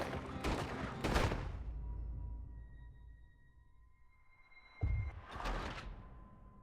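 Two quick bursts of gunshots in Red Dead Redemption 2 during a chase, one at the start and another near the end, separated by a quiet gap with faint ambient tones.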